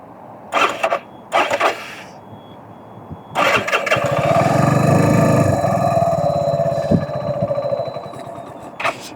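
A CFMOTO Papio motorcycle engine starts with a few short bursts, then runs steadily and loudly in first gear with a rising, sustained drone before easing off; no talking.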